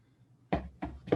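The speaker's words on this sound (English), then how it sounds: "Whence is that knocking?" A knocking sound effect in a stage performance of Macbeth: three loud, hollow knocks land at an even, deliberate pace after a near-silent pause. Each knock is sharp and close.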